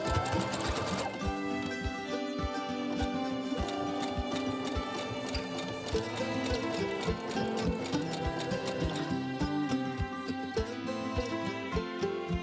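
A sewing machine stitching a window valance with zigzag lines gives off a steady, rapid ticking that runs throughout, partly masked by tonal background music.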